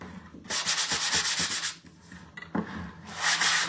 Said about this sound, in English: It's a little sander. I'm just going to sand this lightly.